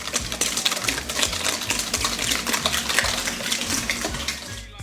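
Sugar, coconut oil and egg being mixed for blueberry muffins: a continuous, busy scraping and clinking of a utensil against a bowl, steady throughout with no talk.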